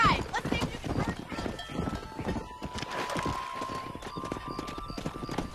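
Horse hooves clip-clopping at a steady walking rhythm while herding cattle in the video game Red Dead Redemption, close and fairly loud, with a whinny near the start and voices talking over the hoofbeats.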